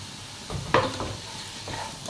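Tomatoes are stirred into a frying biryani masala for a Thalassery-style chicken dum biryani, a soft sizzle under a few close scraping strokes of a spoon in the pan.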